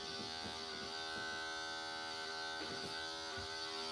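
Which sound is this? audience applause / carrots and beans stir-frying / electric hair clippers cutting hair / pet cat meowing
electric hair clippers cutting hair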